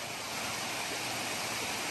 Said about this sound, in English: the river, stream, waterfall, whatever it is.